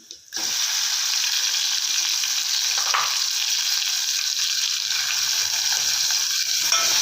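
Chopped tomatoes frying in a pan for a North Karnataka-style peanut sambar, a steady loud sizzle that starts abruptly and continues unbroken, with no talking.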